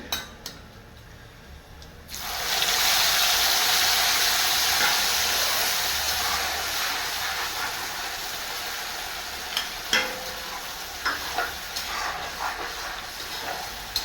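After a quiet moment, a ground spice paste with dried chillies hits hot oil and sizzles loudly and continuously, with a few utensil clinks near the end.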